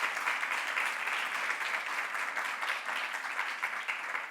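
An audience at a Pride panel event applauds for rights. The clapping is steady, dense and moderately loud, and lasts the whole moment.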